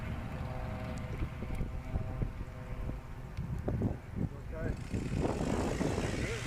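A Piper aircraft called Piperzilla fires up its propeller engine on the ground at a Heritage STOL competition in Virginia Beach, a droning hum rising into a louder roar amid gusty wind noise.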